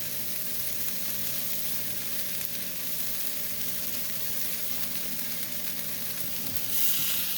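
Crepe filled with cheese and ground beef frying in a pan, giving a steady, fairly quiet sizzle that holds unchanged throughout, with a brief brighter crackle near the end.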